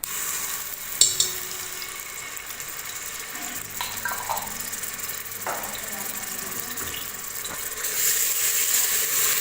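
Ginger garlic paste frying in ghee in a home kitchen for mutton korma, a steady close sizzle and hiss with occasional stirring clinks and scrapes, growing louder near the end, no talk.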